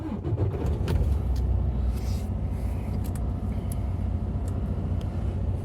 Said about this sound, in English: we turn on the truck